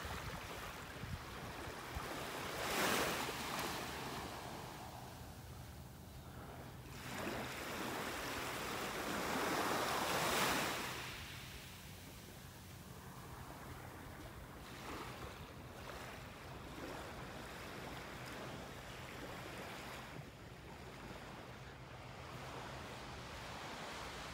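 Ocean surf rolling onto a beach in North Naples, Florida, with waves swelling and breaking around three and ten seconds over a steady wash of water and wind buffeting the microphone; no talking.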